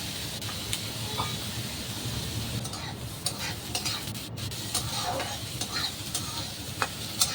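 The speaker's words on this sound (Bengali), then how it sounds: "এবার আমি বেশ মিডিয়াম ফ্লেমে নাড়াচাড়া করে পেঁয়াজ আর করলাটাকে লাল লাল করে" Bitter gourd and onion stir-frying in a pan over medium flame, a steady close sizzle with repeated scraping stirs throughout, no talking.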